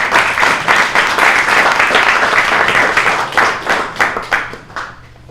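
At a startup pitch night in New York, an audience claps loudly and steadily, then the applause thins into a few scattered claps and dies away.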